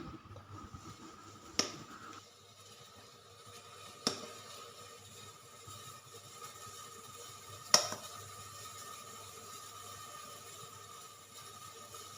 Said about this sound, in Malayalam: എയർ ബബിൾസ് ഒക്കെ പോകാൻ വേണ്ടി ഒന്ന് 2 തട്ടും തട്ടി